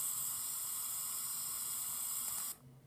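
A steady, loud hiss of mist spraying in the horror video game Five Nights at Spy's, running continuously for a few seconds and then cutting off abruptly near the end.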